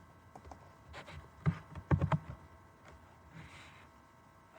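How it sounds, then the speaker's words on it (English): Typing on a computer keyboard, a soft patter of key clicks that bunches into a louder burst of taps in the middle, then trails off quietly. "let me type some text"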